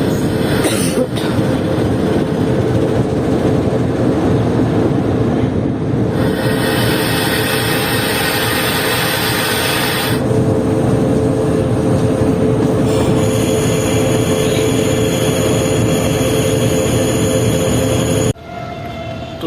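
Shah Latif Express 152 Down passenger train passing a road junction in Pakistan, a loud, close, continuous rumble of wheels and carriages with high, sustained wheel squeal, then an abrupt drop as the last coach clears.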